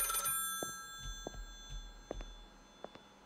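A telephone rings in the game Lakefront Restaurant. It is a bright, close bell burst at the start, followed by scattered faint taps and clicks in a quiet room.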